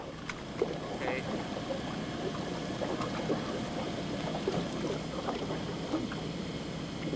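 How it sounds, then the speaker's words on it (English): A constant low rumble of a ship's engine fills the background, with faint water and scattered small knocks over it. "we got a ship rumble in the background."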